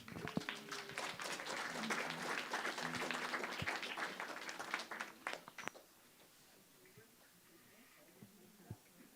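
An audience at a winter solstice celebration claps in a sustained burst of applause that fades after about five seconds, leaving a quiet room with a few scattered claps.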